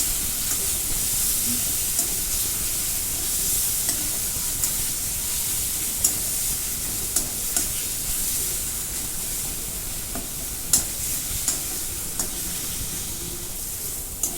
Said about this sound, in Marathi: मिरची चांगली परतून घेतलेली आहे आलं लसूण मिरची